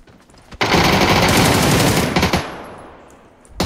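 Rapid automatic gunfire from a shooter video game rattles in one sustained burst of about two seconds, loud and close, then fades into a fainter tail with no talking.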